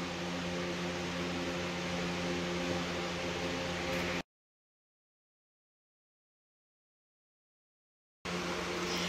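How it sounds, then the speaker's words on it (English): An electric fan blows across the top of a freshly painted vintage dresser, a steady close whirring hum with a faint tonal drone. It cuts out completely for about four seconds midway, then resumes. "I have the fan on now, as you can see, going across the top of this piece so I can dry it sooner"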